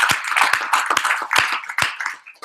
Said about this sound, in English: Let's give these individuals a round of applause